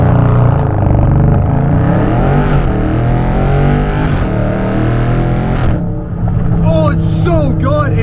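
A 500 hp 2021 widebody Scat Pack accelerates hard from inside the cabin, its loud engine climbing through rising revs with shifts between pulls, ending in a high howling run.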